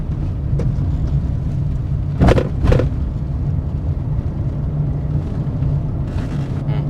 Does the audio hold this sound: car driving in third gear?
yes